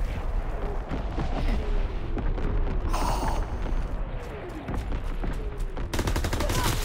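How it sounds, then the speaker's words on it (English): Incoming enemy artillery fire in Call of Duty: WWII pounds nearby as a dense fusillade of loud gunshots and blasts, with an explosive burst midway and a renewed barrage near the end. "Incoming enemy artillery."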